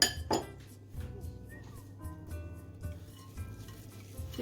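Carrot cake batter with grated carrot being stirred in a bowl: repeated soft scraping and light clinks of a utensil against the dish, rhythmic and close, with no talking.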